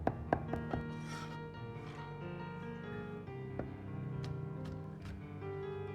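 A knife chops 100 g of washed, drained chives finely on a cutting board, with a quick cluster of sharp taps at first, then sparser, irregular cuts.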